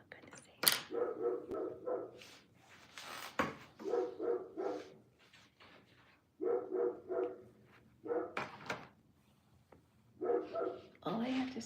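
A puppy barks in repeated yappy bursts, loud and close, with short pauses between volleys and a brief whimpering edge to some calls, recorded indoors at a moderate level.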